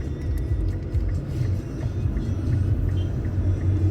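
A family car carrying four children on a road trip toward Dieng gives off a steady, loud, low interior rumble while driving, with no talk heard.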